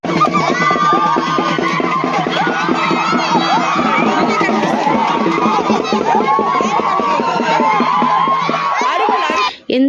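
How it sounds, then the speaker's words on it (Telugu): Boys and a crowd shouting loudly together at a village jatara festival during an Ankamma pongal goat sacrifice, a dense, continuous wall of cheering and yelling voices that cuts off sharply at the end. "ఎందుకు అలా అరుస్తున్నారంటే మేకపోతుని అరికేటప్పుడు మగపిల్లలు అందరూ అలా అరుస్తారు"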